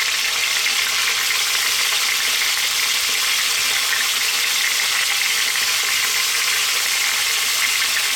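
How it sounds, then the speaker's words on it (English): Thin, salt-and-peppered chicken frying in a pan over medium heat, a steady loud sizzling hiss that holds evenly throughout, with no voices. "we're going to throw this around in the pan for about 4 or 5 minutes"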